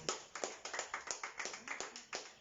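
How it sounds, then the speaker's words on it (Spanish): A church congregation claps together in a brisk, even rhythm, about a dozen sharp claps spaced evenly, fairly faint and without voices over it. "Dale un aplauso más fuerte al Señor"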